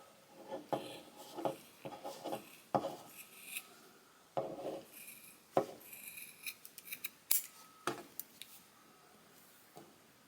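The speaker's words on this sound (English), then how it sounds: "We're just going to cut this part right here, just to make sure that all of this is nice and even." Slightly dull scissors trim the ends of a macrame cord tassel to make it even, giving repeated close snipping and rustling of the fibres in quick irregular bursts.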